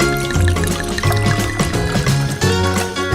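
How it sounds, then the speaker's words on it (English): Milk pours from a bottle into a glass in a toy doll snack scene, a soft liquid trickle set under loud background music. "Here is the bottle. Let's pour."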